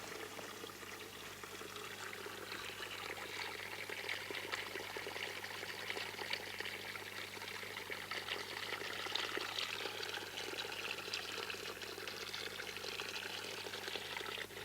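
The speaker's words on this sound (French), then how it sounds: "Écoutez le bruit de l'eau qui coule de la forêt." Spring water flows and trickles continuously at a soft, even level, a gentle forest stream with no voices.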